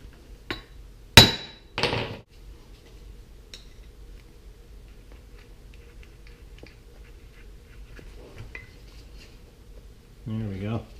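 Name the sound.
hammering flywheel off a mini four-cycle engine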